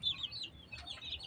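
Backyard poultry-farm chickens from a last incubated batch give a few faint, brief clucks and soft calls against quiet background noise.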